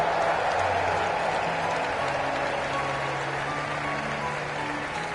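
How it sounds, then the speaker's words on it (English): Crowd applause rewarding tournament victors in the Trails in the Sky video game, a dense, steady wash of clapping that fills the scene evenly and continuously, with no speech over it. "let us shower these victors with thunderous applause"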